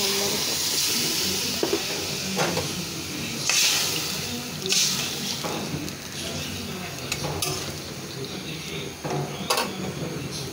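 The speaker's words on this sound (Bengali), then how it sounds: "পানি দিয়ে দিলাম, আর ঢাকনা দিয়ে দিতে।" Water poured into a hot cooking pot of spiced food hisses and sizzles steadily, with stirring clatter and faint speech in the background.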